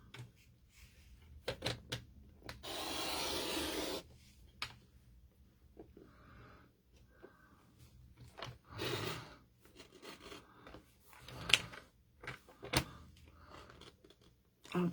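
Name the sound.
scoring a sheet of paper for a card fold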